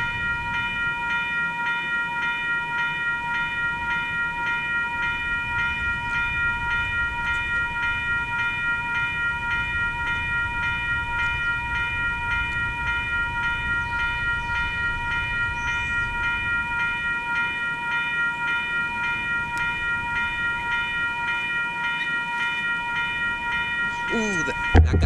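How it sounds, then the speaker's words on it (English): An ION tram rumbles steadily past at a busy level crossing while a crossing bell or warning tone rings continuously throughout, with a faint voice in the background. "the tram is coming down the line"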